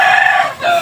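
A chicken gives a short, loud, close crowing call that lasts under a second, alone and without voices.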